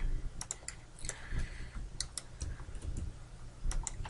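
A computer keyboard and mouse click in scattered, light taps during 3D modeling work, the faint keystrokes and clicks arriving irregularly over a low room hum.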